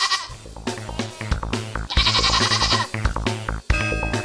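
Goats at a goat farm bleat repeatedly and loudly, with several overlapping calls of varying pitch over a little more than four seconds, close by and with no talk.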